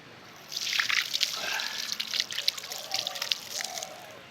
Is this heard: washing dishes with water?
yes